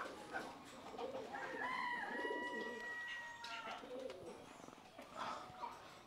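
Jalali pigeons coo softly at a small backyard mini zoo, with faint calls of other fowl mixed into the background and no speech.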